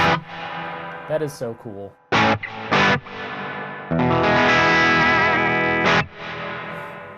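An electric guitar played through a Red Panda Context reverb pedal rings out in stabbed chords and notes with a swelling, ducking reverb tail, while a person briefly talks between phrases.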